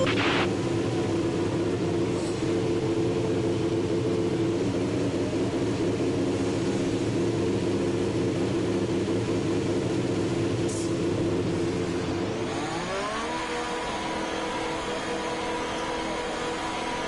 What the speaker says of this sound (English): Engine fired, we're set.